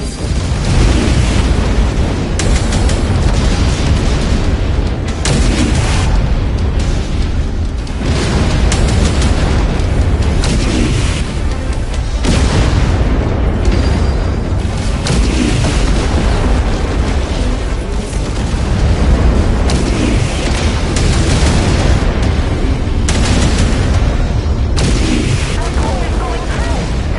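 Heavy booms and explosions from incoming missiles in a sci-fi video game, a dense, loud and continuous barrage of blasts that rumbles for the whole stretch, with voices speaking over the noise.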